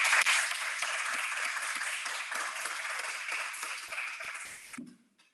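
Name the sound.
applause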